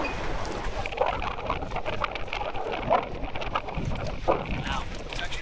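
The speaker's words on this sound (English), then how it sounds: "This is definitely a test of the wind filter" Strong outdoor wind buffets the microphone in a loud, continuous rumbling roar with gusty bursts throughout, close and heavy, with no clear voice over it.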